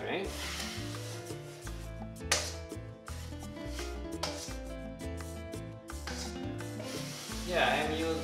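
A drywall knife scrapes a taped flat joint clean under light pressure, giving repeated rasping strokes of varying length over steady background music.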